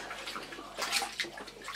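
Soapy water fizzes and bubbles in a basin as a vintage Hoover cloth vacuum bag soaks in it, a soft, close, continuous crackle with small splashes.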